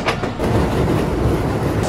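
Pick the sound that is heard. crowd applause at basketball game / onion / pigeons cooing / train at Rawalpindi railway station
train at Rawalpindi railway station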